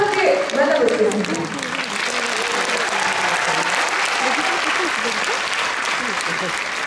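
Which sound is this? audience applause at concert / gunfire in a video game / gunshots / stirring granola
audience applause at concert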